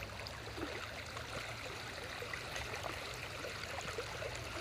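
A river or stream near a residential settlement flows with a continuous, soft rushing and trickling hiss, steady and fairly faint, with no voices over it.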